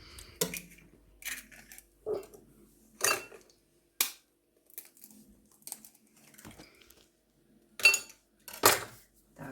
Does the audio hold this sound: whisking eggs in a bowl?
yes